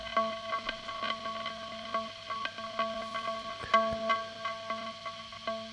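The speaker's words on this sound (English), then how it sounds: "it is my electric guitar going directly into Ableton" Muted electric guitar notes, played directly into Ableton, plucked in a quick rhythmic pattern, with echoing repeats trailing each note.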